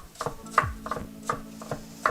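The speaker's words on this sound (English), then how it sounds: "I'm just going to do a fine mince instead" A knife finely minces food on a cutting board, giving a series of sharp close taps in an uneven rhythm, roughly six or seven strikes with light scraping between them.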